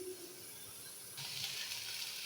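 Paste of pointed gourd peel fries in a pan, a soft steady sizzle that turns louder and brighter partway through, close and with no voices.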